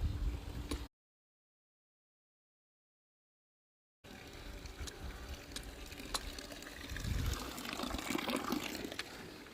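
Water running steadily from a free public drinking fountain in Switzerland, a constant outdoor splash after a short silent gap, close by with no talk.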